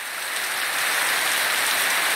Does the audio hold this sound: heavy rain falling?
yes